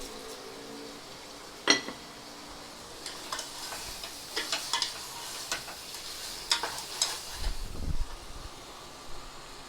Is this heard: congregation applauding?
no